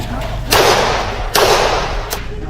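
Gunshots during a police operation, three sharp loud cracks spaced under a second apart, each leaving a broad noisy decay, heard over a low background rumble.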